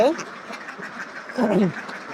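Farm ducks lying at rest let out a couple of short quacks, one at the start and a louder burst near the end, close by, with someone talking over them.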